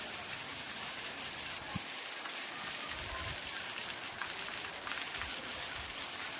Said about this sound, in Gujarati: ખૂબ સરસ વરસાદ આવી રહ્યો છે, આપ જોઈ શકો છો. જોરદાર વરસાદ પડી રહ્યો છે ચલાલામાં.